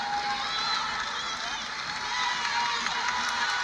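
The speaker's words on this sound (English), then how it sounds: "This crowd's starting to make some noise here at Maples Pavilion." A crowd at a women's college basketball game between Syracuse and Stanford in Maples Pavilion roars in a steady, dense wash of cheering and noise under a commentator's voice.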